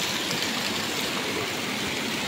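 A constant close rush of mountain spring water pours at its source in the hills of Matanao, Davao del Sur, steady and even throughout without talk.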